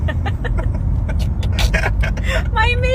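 A car drives home from Dallas in traffic, with a steady low road and engine rumble running throughout and brief higher sounds near the end, apparently from inside the vehicle.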